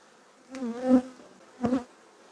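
Honey bees at a hive in a pre-winter apiary buzz close by in two short passes, each a rising and falling drone.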